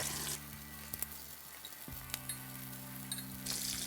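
Breaded white shrimp fry in a pan over lowered heat, giving a steady soft sizzle with a few faint clinks and taps over a constant low hum.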